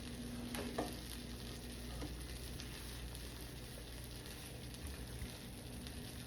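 Bacon fries on a griddle on the stove with a steady, dense sizzle and crackle, close and continuous, with a few small clinks early on.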